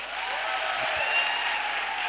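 Applause from an audience at a business event, a steady, moderately loud wash of clapping that holds evenly for about two seconds with no voices over it.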